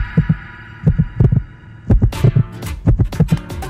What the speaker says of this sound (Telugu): నా హార్ట్ బీట్ విను.